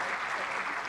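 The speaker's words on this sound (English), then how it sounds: "And now today, a round of applause for Lou." Audience clapping at a conference session, a short dense burst of applause that holds steady at moderate level with no voices on top.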